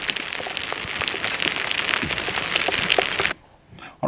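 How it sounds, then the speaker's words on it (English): Steady rain pours down outdoors at a campsite, a dense close hiss of drops striking surfaces with occasional sharper taps, then it cuts off abruptly near the end. "all of a sudden it started raining"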